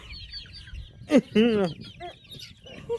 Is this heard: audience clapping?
no